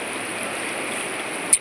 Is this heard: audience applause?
no